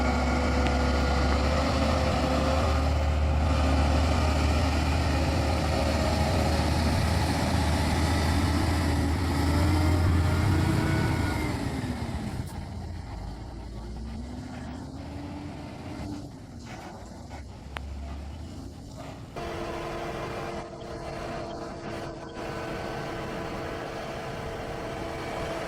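A Korean semi truck hauling a 330,000 lb load strains up a steep mountain switchback toward the summit. Its heavy diesel engine drones steadily, then drops to a quieter, lower hum partway through.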